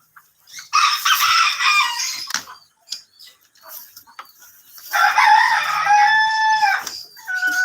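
A rooster on a home poultry farm, one with strikingly large feet, crows twice, loud and near, with brief clucks and other farm noises between the calls.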